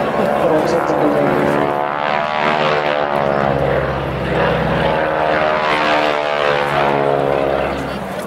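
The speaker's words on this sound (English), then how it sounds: "the aircraft tend to get closer and closer with each opposition pass" Propeller aircraft pass in formation at a seaside air show in Clacton, a loud sustained droning engine roar that swells and holds, with a commentator talking over it.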